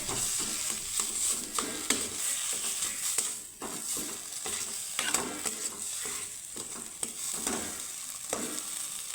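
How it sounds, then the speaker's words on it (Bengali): Boiled, grated potato being stirred and mixed with spices in a pan for a tiffin snack, a steady close scraping and soft sizzle that runs the whole time with repeated spatula strokes and no talking. "তো আলুটাকে আমি সুন্দর করে মিক্স করে নেব এই মশলার সাথে"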